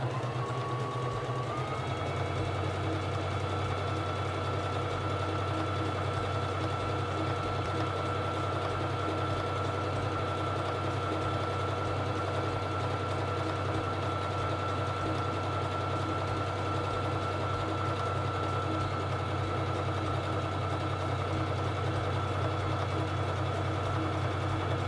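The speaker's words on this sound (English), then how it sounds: "Now I'm going to sew the honeycomb stitch. Bring down the presser foot lifter and begin sewing." Singer Fashion Mate 3333 sewing machine stitching a honeycomb pattern, a continuous close, even mechanical whir and rapid needle clatter that holds steady throughout after a brief start-up.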